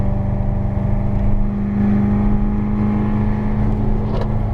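Corvette Z06 at full throttle on the Las Vegas Motor Speedway track, its engine a loud, steady drone close by that holds without a break, with no speech.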